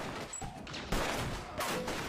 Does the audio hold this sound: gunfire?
yes